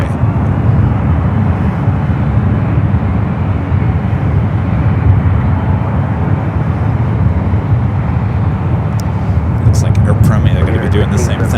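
Air Premia jet taxiing at SFO and turning onto taxiway Lima, a constant low engine rumble with broad noise throughout, people talking over it.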